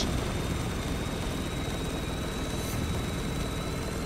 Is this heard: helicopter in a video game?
yes